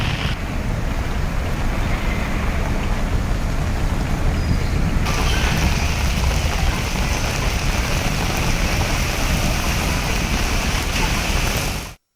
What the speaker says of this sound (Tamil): தமிழகத்தின் பல்வேறு பகுதிகளில் பரவலாக மழை பெய்தது